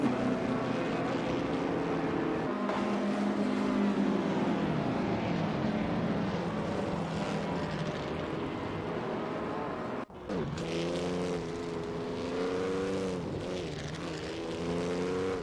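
Race cars in an Indy racing video game roar past in a constant, loud drone of high-revving engines, their pitch bending up and down as the field streams by, with a brief dip around the middle before the engine whine resumes.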